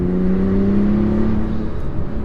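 A tuned 660 HP Porsche 911 Turbo S cruising with windows up and AC on, its engine a loud, steady, close interior drone with a clear tone that slowly shifts in pitch.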